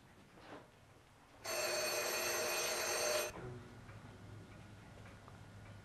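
An old-style telephone bell rings loudly in one continuous burst of about two seconds inside a home, then cuts off, leaving quiet room tone with a low hum.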